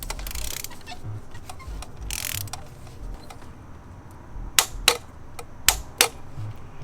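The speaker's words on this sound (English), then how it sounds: "now grabbing our torque wrench, we're going to torque these to 23 Newton meters or 17 foot-pounds" A torque wrench tightens spark plugs on a BMW E90 335i to 17 foot-pounds, and four sharp, close clicks come in two quick pairs after a quiet stretch of faint handling noises.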